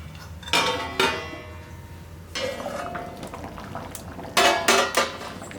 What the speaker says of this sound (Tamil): இப்போ தட்டை வச்சு மூடி வச்சிடலாம்